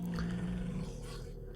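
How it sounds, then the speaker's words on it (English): A low growling, barking animal roar from the Minecraft modpack FTB Revelations, sustained and moderately loud with a rough droning tone, and no talking over it. "had some barking just then"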